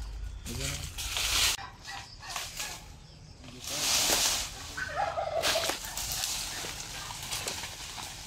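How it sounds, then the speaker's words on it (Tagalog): Chickens and other fowl at a poultry farm in Tarlac City cluck and call in repeated bursts, with a voice talking over the birds. "Mga manukan din kasi sila dito."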